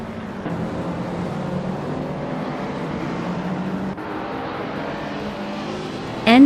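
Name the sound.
racing cars including Peugeot 207 GTI in racing video game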